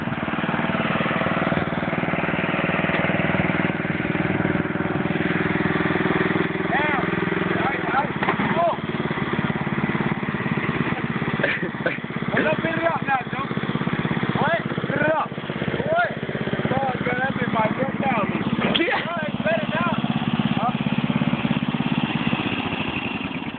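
A tractor engine runs close by with a steady mid-pitched chug that changes a little partway through, while people talk loudly over it.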